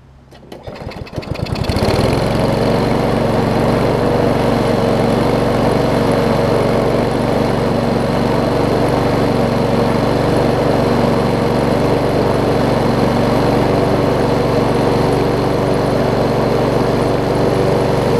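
A Yard Pro push mower with a Kohler engine sputters through a brief start in its first two seconds, then runs on at a loud, steady, buzzing pace with no voices.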